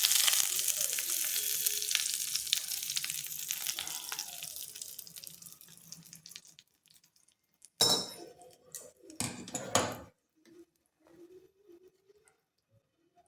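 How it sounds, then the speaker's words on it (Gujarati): Hot oil tempering with curry leaves and a chilli sizzles loudly at first, then fades as it settles after the gas is turned off. Later come a few short bursts of clattering and splashing as it is poured into coconut chutney. "આ વઘાર આપણે ચટણીમાં રેડી દઈશું।"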